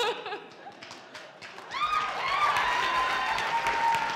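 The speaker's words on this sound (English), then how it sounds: "one last round of applause" An audience at a faculty dance show claps and cheers after a dance, with rising whoops over the noise. The applause swells midway and stays full and lively, and a few voices are heard faintly at the start.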